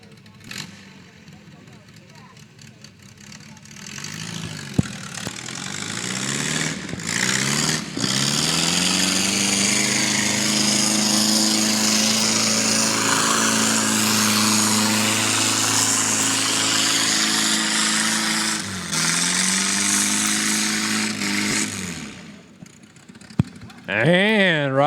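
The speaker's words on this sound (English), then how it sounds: "Garrett Stevens. From Annapolis, Illinois, driving his Moline Model U" A Moline Model U tractor pulls at a barnyard tractor pull at the Georgetown Fair. Its engine roars loud and sustained for about twenty seconds, rising and falling in pitch under crowd noise and commentary.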